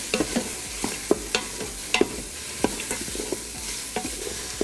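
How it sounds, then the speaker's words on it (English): Vegetables sauté in an Instant Pot with a soft background sizzle, punctuated by repeated close knocks and scrapes of a utensil stirring against the inner pot, irregular but frequent. "So you'll cook the vegetables for about 6 minutes or so."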